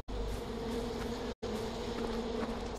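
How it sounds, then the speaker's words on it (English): Steady insect-like buzzing hum in the video game Far Cry 4, droning close and continuous with a brief break midway, and no talking. "See, it sounds like there's bees,"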